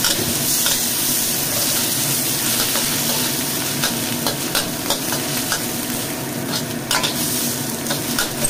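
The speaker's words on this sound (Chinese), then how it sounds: "好，再將啲菜脯粒擠落去，炒翻香菜嚇" Diced preserved radish and minced ginger stir-fried in a wok give off a loud, continuous sizzle, broken by repeated scraping strokes of the stirring.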